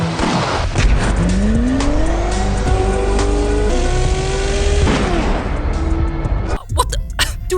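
Koenigsegg sports car racing at high speed, a loud sustained engine roar with rising gear-change sweeps and tire squeal, cutting out abruptly near the end into a brief impact-like burst.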